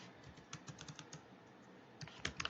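Code typed on a computer keyboard, a quiet run of light key taps in uneven rhythm, ending in a slightly quicker cluster of clicks.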